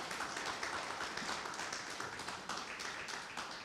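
A congregation applauds during a church service with continuous, fairly quiet clapping from many hands, a dense even patter throughout.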